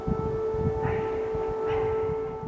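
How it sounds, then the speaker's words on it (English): Air raid siren sounding in Kyiv, a steady sustained wail heard at a distance under background noise. "Air raid sirens sounded in Kyiv after those ceasefire talks."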